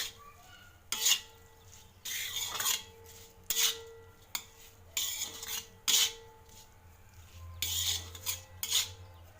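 Fried okra being stirred together with lentils and masala in a pan on a tawa, a series of close, sharp metal spoon scrapes and clinks against the pan in irregular bursts, with no talking.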